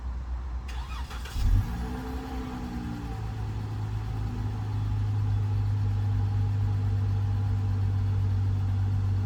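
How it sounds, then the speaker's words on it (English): A 2014 Dodge Charger Pursuit engine cranks and starts, then settles into a steady, deep exhaust idle that grows slightly louder and holds a low rumble. "we will now run around to the back so you can take a listen to the exhaust"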